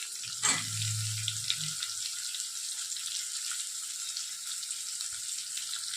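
Crushed garlic dropped into a pan of sautéing tomato gives a quick hiss, then a steady, soft sizzle runs on alone for several seconds, with one brief low clunk near the end.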